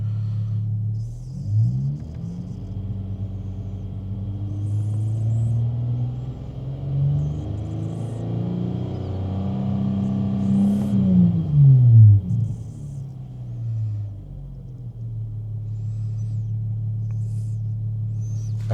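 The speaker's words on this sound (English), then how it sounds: "create a lean condition by revving up the car and letting off on the throttle" A Chrysler 3.6L car engine idles, then is revved up, climbing in pitch to a peak before the throttle is released and it sinks back to a steady low idle. The engine is close and there is no talk.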